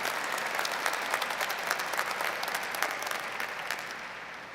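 Commencement audience applause at a university graduation ceremony, steady clapping from a large crowd that holds for several seconds and tapers slightly at the end.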